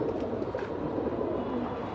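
Pigeon cooing softly in a continuous low murmur over a steady background, with no talk.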